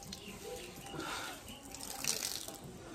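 Water running steadily from a tank tap, a continuous close splashing gush with fluctuating texture throughout.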